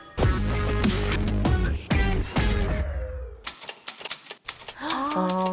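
A mechanical typewriter being typed on, rapid clattering keystrokes in bursts with carriage ringing and return sounds, close and crisp, no speech.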